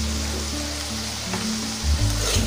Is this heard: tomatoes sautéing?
yes